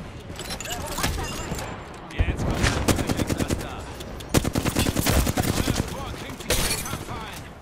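Rapid bursts of gunfire from a first-person shooter game crackle in repeated volleys, with dense automatic rattles and sharp single shots over a busy game soundscape, alongside occasional game voice lines.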